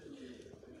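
Soft, faint cooing of pigeons at a pigeon-flying tournament in Sheikhupura, Punjab, a low murmuring call over steady outdoor background noise.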